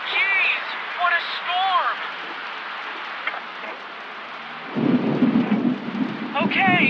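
A thunderstorm in the 112 Operator emergency dispatch game, steady rain hiss with a deep rumble of thunder swelling in, while people talk over it.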